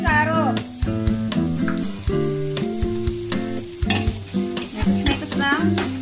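Sopas with corned beef being stirred in a pot: a series of spoon clinks and scrapes over a soft simmer, partly covered by background music.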